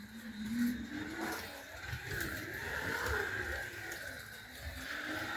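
Slot car racing around a track, a small electric car whirring and rising in pitch as it circles, faint and steady with slight surges.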